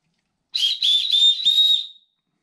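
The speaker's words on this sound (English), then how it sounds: "Then we've got a whistle." A high, shrill whistle blown in four quick bursts, close and loud, the last blast held a little longer before stopping.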